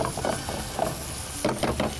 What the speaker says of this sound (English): start mixing it up so that the ginger also starts frying evenly